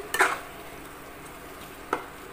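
Mushrooms and ground masala sautéing in a pan for a mushroom gravy: a faint, steady sizzle with two brief stirring scrapes near the start and near the end.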